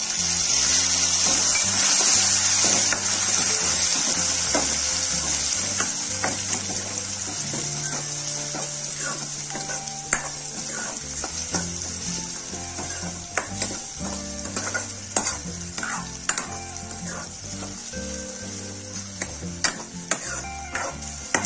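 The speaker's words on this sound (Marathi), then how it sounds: "टोमॅटो ही परतलेले आहेत" Finely chopped tomato with curry leaves sautéing in a pan for homestyle misal, giving a loud hiss at first that settles into a steady sizzle, with frequent spatula scrapes and taps throughout, close and alone.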